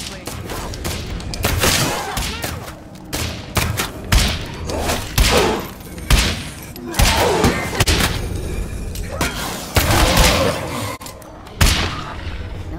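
Repeated gunfire and heavy thuds from the video game State of Decay 2, loud bursts spread across the clip at an uneven rhythm, with a voice talking between shots.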